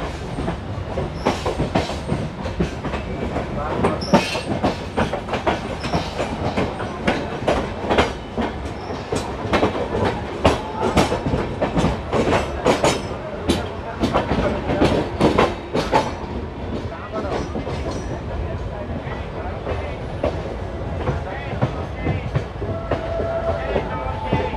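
Jansadharan Express train running on rails between Anand Vihar and Danapur, a steady loud rumble with rapid clickety-clack wheel beats and brief metallic squeals, continuous throughout with no pauses.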